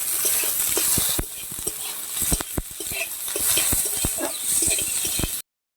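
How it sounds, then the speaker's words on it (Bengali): Onions fry in a pan while a spatula stirs them, giving a steady hiss broken by frequent sharp scrapes and taps. The sound is close, with no talking. "পেঁয়াজটাকে এখন ভালো করে ভেজে নেব"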